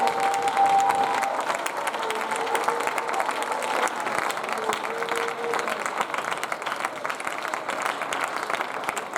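A church congregation applauds during worship: dense, sustained clapping from many hands fills the whole stretch at an even level, with faint singing or voices woven underneath.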